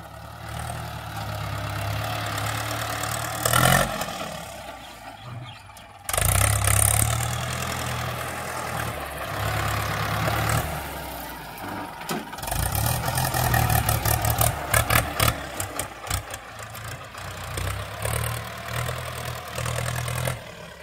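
Vehicle engine running while reversing in gear down a row in an orange orchard, a steady mid-low drone with a short drop-out, then rising revs and rattly surges; no talk.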